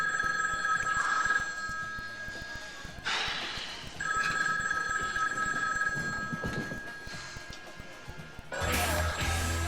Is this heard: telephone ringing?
yes